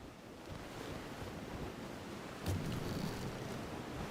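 Stormy sea in the video game Bannerlord: waves surge and wind roars in a continuous wash, with a louder swell near the end.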